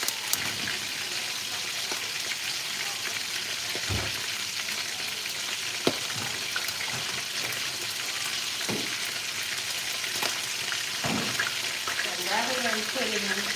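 Food sizzles steadily in a pan with a constant crackling hiss, with occasional clinks and faint talk in the background.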